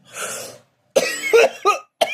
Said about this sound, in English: And cough.